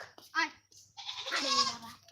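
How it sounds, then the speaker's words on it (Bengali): A goat bleats twice nearby, a short wavering call followed by a longer, louder quavering bleat. "দাঁড়া ছাগলের ডাক"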